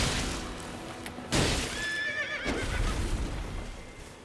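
A horse neighs in the Elden Ring video game, a loud, bright whinny with a sharp onset and wavering falling tail, followed by a second shorter whinny and clip-clop hoof sounds, without any talk.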